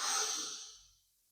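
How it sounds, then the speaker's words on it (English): A single deep inhalation, close and quiet, swelling quickly and then fading over about a second during a calm, somatic yoga session for tight hips. "Taking a nice deep breath in"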